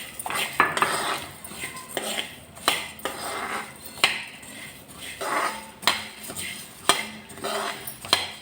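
Spices dry-roasting on low heat in a pan, stirred with a metal spoon that scrapes and clinks against the pan in a steady rhythm of repeated strokes, close and without talk.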